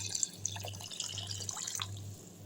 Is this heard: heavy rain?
no